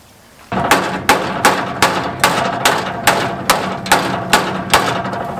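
A hammer strikes wood in a steady rhythm of about a dozen sharp, loud blows, each a solid knock with a short ring, close by.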